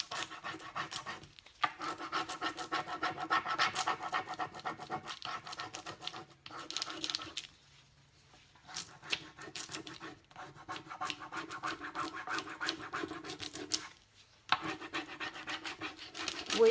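Hand rubbing a Prima rub-on transfer onto a surface: quiet, close scratchy rubbing strokes in bursts, broken by a few brief pauses.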